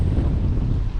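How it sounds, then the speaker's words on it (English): Steady wind blows outdoors on a windy day of bass fishing, a loud continuous low rumble buffeting the microphone with no talking. "that wind really caught it"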